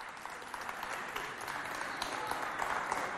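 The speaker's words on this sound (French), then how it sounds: "On applaudit bien fort, s'il vous plaît." Audience applause at a youth holiday event, a steady dense patter of many clapping hands heard at moderate distance, without voices.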